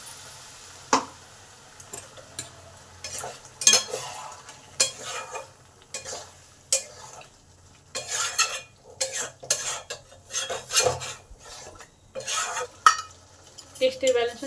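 Potatoes and a spice mix stirred and sautéed in a pan for a squash and potato curry, with repeated scraping and clanking strokes of a spoon against the pan over a faint low sizzle.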